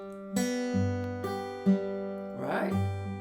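Fingerpicked guitar notes added on the third string over a bass pattern, ringing in a slow steady rhythm, plucked notes sustaining close and fairly quiet.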